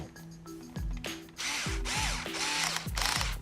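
A power driver runs in short, loud bursts as it tightens screws on an RC car's front differential, each burst rising in pitch and ending with a ratcheting clutch click, all up close with no talk.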